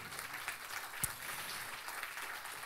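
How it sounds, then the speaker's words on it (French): Faint, distant audience applause at a conference on cyber insurance, a soft steady spread of clapping with one brief sharper knock partway through. "On peut applaudir nos experts de l'assurance."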